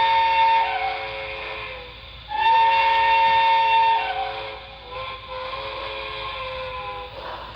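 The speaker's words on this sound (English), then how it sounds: "A little bit of a different whistle" A model steam locomotive's whistle sounds in sustained, chord-like toots: a long blast, a short pause, then another long blast, with a faint mechanical hum underneath.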